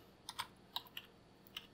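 Keys tapped on a computer keyboard while entering a command, a handful of light, irregular clicks, quiet and close with no talking.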